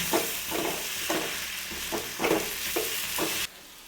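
Onion and tamarind masala sautéing in a pan, with a continuous sizzle broken by regular scraping stirs of a spoon every half second or so, close and moderately loud, stopping abruptly near the end.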